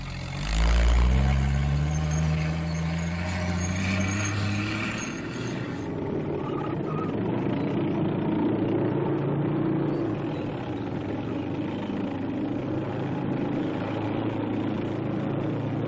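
An M29C Weasel light cargo carrier crossing difficult snow-covered terrain drones steadily, with a loud low engine rumble easing into a continuous mid-range roar, free of talk.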